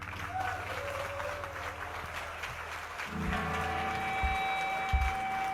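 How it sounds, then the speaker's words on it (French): A studio audience at a Nancy web TV music show applauds the performers, a moderate, steady clatter of clapping, joined partway through by sustained instrumental tones and low thumps. "On les applaudit."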